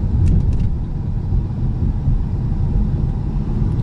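A 2019 Ford Mustang GT Premium cruising in normal mode, heard from inside as a steady low engine and road rumble with no revving.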